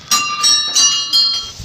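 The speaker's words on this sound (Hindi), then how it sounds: "और ये घंटियों की जो ध्वनि है ना वो माहौल को बहुत भक्तिभाव वाली कर देती है" Small temple bells ringing at Kandoliya temple in a village setting, four bright metallic strikes in an even rhythm, each ringing briefly before the next, close and clear with no talk.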